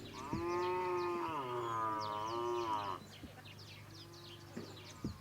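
A cow on a small farm lets out a long, loud moo that rises and wavers for about three seconds, followed by a quieter lowing. Birds chirp faintly in the background.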